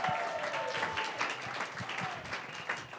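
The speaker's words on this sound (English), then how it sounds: "Give them a round of applause." Audience applause at an entrepreneurs' demo day event, a steady wash of clapping throughout, moderately loud with a few distinct claps near the front.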